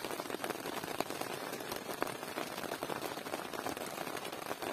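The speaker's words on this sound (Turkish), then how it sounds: "Azıcık daha yağmur sesi dinleteyim." Steady rain patters on a taut tent surface close by, a dense crackle of drops with occasional louder taps, no voices.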